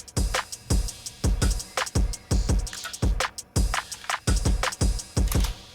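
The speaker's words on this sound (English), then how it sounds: "the drums together sound like this" A punchy drum beat with regular kick hits and crisp cymbal and snare strikes in a steady groove, loud and close.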